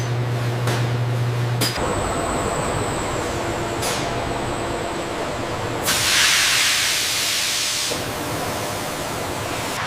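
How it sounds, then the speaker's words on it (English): Steam bursts from a pressing machine as wrinkles are removed from a cow leather jacket on a form. A loud, broad hiss rises and fades over a steady factory hum, with a few dull thumps. "Precision, steam, and pressure remove every wrinkle, perfecting the jacket's silhouette."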